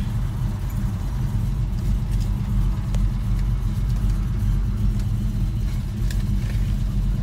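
A 1978 squarebody Chevy C10 truck drives along with a steady, loud, low engine rumble and road noise from inside the cab, holding an even drone throughout with light rattles and ticks over it.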